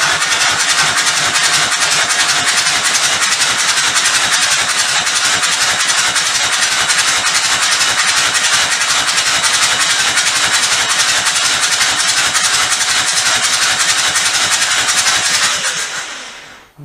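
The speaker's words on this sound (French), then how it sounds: "Le moteur n'est pas bloqué, il tourne, il claque pas." A car engine with EGR valve work runs loudly and continuously with a rough, rapid mechanical chatter, then cuts off abruptly at the very end.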